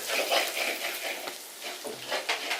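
Chicken roast masala being stirred in a pan, Kerala style, with a steady broadband sizzle and scraping strokes of the spoon against the pan, continuous and close, no talking.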